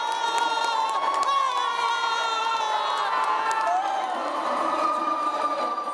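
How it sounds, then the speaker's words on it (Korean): Spectators in the stands at a pool cheer on haenyeo divers during a swimming relay, with loud, continuous shouting and excited high-pitched voices, including children, sustained throughout. "관중석의 열띤 응원이 이어질수록 해녀들의 움직임도 점점 더 힘차집니다"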